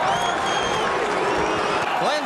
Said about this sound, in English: The crowd tries to liven itself up to see a knockout.